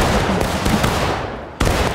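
A musket volley in the Civil War battle game War of Rights cracks out as a sudden loud burst near the end, following a stretch of rolling distant gunfire from the battlefield.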